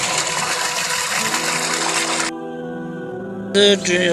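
Water gushes steadily into a small tank used for watering a buffalo, a loud continuous rush that drops to a lighter trickle partway through, then briefly surges again.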